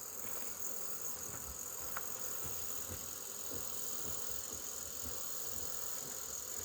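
Honey bees buzz steadily around a beekeeping feeder at a camp apiary, a dense, continuous hum of many insects close by with no talking.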